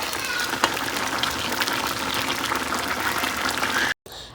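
A pot of ash gourd, potato and bori curry simmers in water with a steady bubbling, hissing boil that runs loud and continuous before cutting off abruptly near the end.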